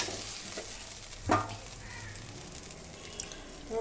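Fish paste with black cumin sautéing in hot oil, a steady low sizzle with a sharp stirring scrape midway and occasional spoon clinks, no talking.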